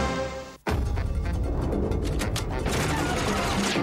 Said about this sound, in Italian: Jimmy, non sparare, sono io